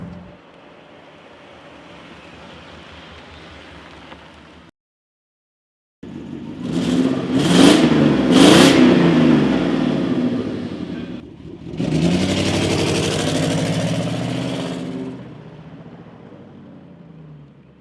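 An old Mercedes 500E V8 with a failed transmission revs in neutral with no gears engaged, roaring in loud rising surges after a quiet stretch. The engine is heard close, with no talk.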